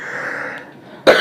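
A man coughing once, a sharp, close, loud burst at the end, preceded by a brief fading hum of voice and near silence.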